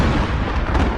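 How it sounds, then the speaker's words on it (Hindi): Thunder cracks overhead as lightning strikes before a downpour, a loud dense rumbling burst filling the whole second with no voices. "अचानक आसमान में बिजली कड़की"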